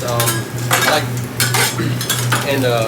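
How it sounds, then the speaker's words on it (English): Onions sizzling lightly on a sandwich-shop griddle while a metal spatula scrapes and stirs them in quick repeated strokes, close and clear over a low steady hum. "So we're just going to lightly grill the onions."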